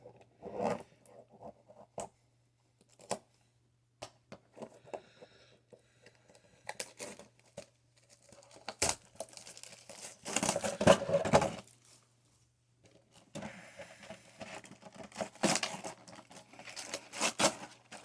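Plastic wrap is torn off a 2020 Topps Chrome trading card box in sporadic crinkling and ripping bursts, close up, with quiet gaps between them and louder, denser tearing toward the end.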